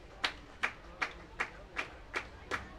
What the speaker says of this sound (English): Another lively crowd here at Athletic Kulture Stadium.